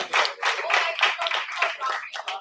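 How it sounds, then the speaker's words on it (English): Audience applause at a university departmental event, dense rhythmic clapping from many hands that swells and dips in waves and continues without pause, with faint voices mixed in. "Please give a huge round of applause."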